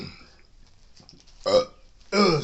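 Two loud, close burps from a man after a drink, the first short and the second longer and rougher, following a few seconds of quiet breathing and faint background noise.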